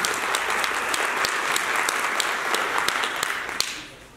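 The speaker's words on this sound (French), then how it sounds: "Je vous demande, s'il vous plaît, de les applaudir toutes les 2 pour leur contribution." Conference audience applauding during an opening speech, a steady even wash of clapping with a few sharper individual claps, moderately close, with no talk over it.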